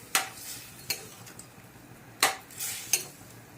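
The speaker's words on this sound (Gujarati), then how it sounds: "કોફતા નાખી સારી રીતે મિક્સ કરી દઈશું" Bottle gourd kofta stirred into gravy in a pot, a few sharp spoon scrapes and clinks against the metal at irregular intervals over a quiet background.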